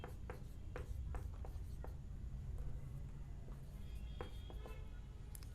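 Chalk or marker writing on a board during a lecture on Sufism: quick scratchy strokes in short bursts over a constant low room hum, fairly faint, with no talking over them.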